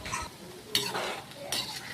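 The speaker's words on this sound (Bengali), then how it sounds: "আজকে এদিকে আমার চিকেন পকোড়া প্রায় ভাজা হয়ে এসছে" Chicken pakora frying in hot oil, a steady soft sizzle overlaid with a few sharp metallic clinks and scrapes of a utensil against the pan.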